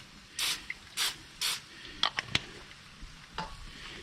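Olive oil is sprayed onto burgers cooking in a pan, three quick hissing bursts in a row, then a few sharp clicks and one more short spray over a faint sizzle.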